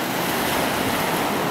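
Ocean waves break on rocks on the coast of Tenerife in the Canary Islands, a loud, close wash of surf that fills the short moment without pause, mixed with wind buffeting the microphone.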